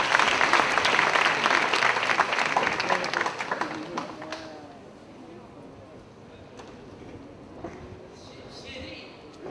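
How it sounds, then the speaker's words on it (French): Audience applause at a live stage show, loud and sustained for about four seconds before fading into lighter clapping and murmur, with a voice talking over the tail end. "Sous vos applaudissements,"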